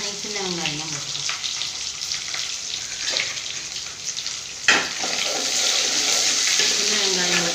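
Small onions sizzle and fry in a pan for a home-cooked lunch, a steady close hiss with occasional stirring scrapes and a brief clatter midway.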